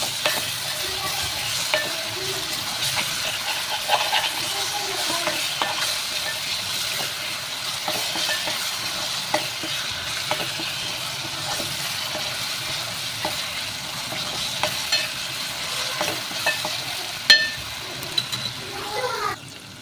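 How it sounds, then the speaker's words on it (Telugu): Onions frying with ginger garlic paste for a raw prawn curry, a steady close sizzle and hiss running throughout with occasional stirring scrapes and a few soft clinks. "ఆనియన్స్ ఫ్రై అవుతున్నాయి"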